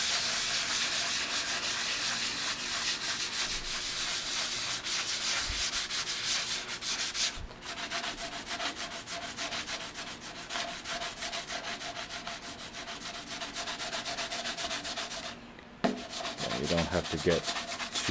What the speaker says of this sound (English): Get too rough with this, just a light sanding.